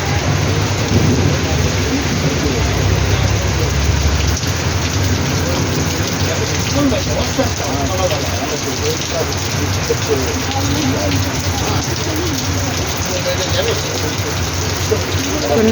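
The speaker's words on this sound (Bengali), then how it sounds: "বৃষ্টি কমার নাম নেই।" Heavy rain pours down steadily in Belgharia during a thunderstorm, a dense, loud roar of rain on surfaces with rumbling thunder underneath, continuous throughout.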